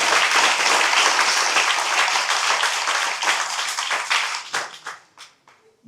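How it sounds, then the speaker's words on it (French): Crowd applauding at a municipal election campaign speech in Morne-à-l'Eau, a dense sustained wave of clapping that thins out into a few scattered claps at the end. "Donc, applaudissez-les."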